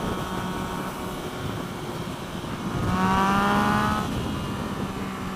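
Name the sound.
Yamaha FZ-09 motorcycle engine at varying RPM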